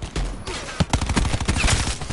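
Rapid gunfire from Call of Duty Black Ops 4 gameplay, a dense burst of loud, closely spaced shots rattling steadily for about two seconds with no talk over it.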